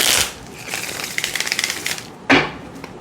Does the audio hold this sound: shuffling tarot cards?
yes